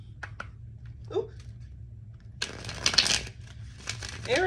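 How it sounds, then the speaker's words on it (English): A deck of tarot cards being riffled and shuffled in a couple of quick bursts, with quiet rustling between them and a person talking briefly. "let me do one more shuffle."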